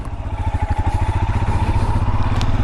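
A Royal Enfield Himalayan motorcycle being ridden, its single-cylinder engine thumping in a steady fast pulse with a deep bassy exhaust note, close and loud throughout.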